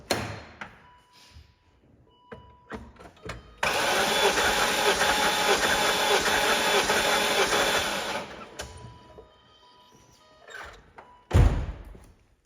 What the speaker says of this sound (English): a quick video of compression testing one of the cylinders